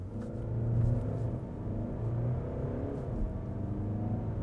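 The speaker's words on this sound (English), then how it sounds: "So let's see what the car can do 0 to 100." A 2024 VW Passat R Line accelerating hard from 0 to 100 km/h, with a loud, close engine rumble and rising revs that dip briefly at a gear change, then keep pulling steadily, with no voices.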